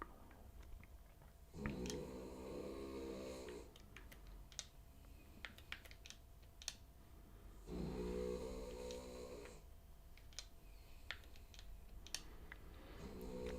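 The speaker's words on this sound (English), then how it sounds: "Listen to you snoring away." Monty the puppy, recovering from being sick, snores in two long, slow breaths under a steady clatter of computer keyboard typing and clicks.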